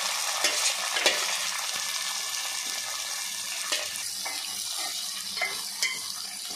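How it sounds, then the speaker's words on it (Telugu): Boiled prawns frying in tomato gravy, giving a steady soft sizzle with stirring scrapes and a few sharper clinks of a spoon against the pan, close and fairly constant throughout. "ఇప్పుడు ముందుగా ఉడకబెట్టుకున్న రొయ్యలు దాంట్లో వేసుకొని వేపుకుందాం"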